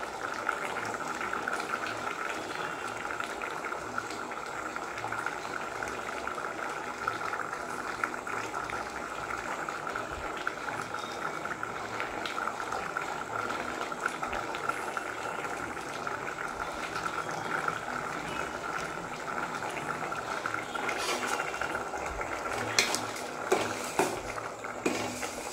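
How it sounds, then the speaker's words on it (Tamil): Radish sambar comes to a rolling boil in a pot, giving a steady, quiet bubbling and simmering hiss that goes on unbroken, with a few sharper clinks near the end. "சாம்பார் இப்போ வந்து நல்லா கொதிச்சிடுச்சு"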